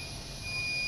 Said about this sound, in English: once this alarm occurs